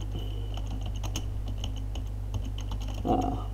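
Steady clicking of keys on a computer keyboard as a sudo command is entered in a terminal, quiet, close keystrokes over a constant low electrical hum, with a slightly louder burst near the end.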